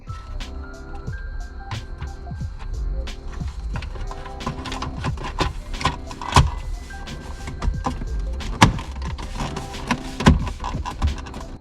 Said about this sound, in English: last piece we need to install is the gear selector trim piece. We're gonna go ahead and pop this in there and finish this up